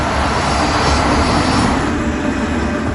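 A KLM jet airliner positions on the runway for takeoff, its engines a steady, loud, continuous roar with a low rumble and a high whine, holding level for the whole stretch, with no talking.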